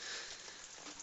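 Rain falls at an outdoor mine shaft site, giving a steady, hissing patter of drops on surfaces that runs evenly through the short moment without speech.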